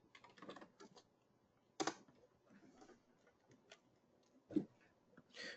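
Login details tapped out on a computer keyboard, with faint, close, irregular key clicks and a couple of sharper louder strokes in quiet surroundings.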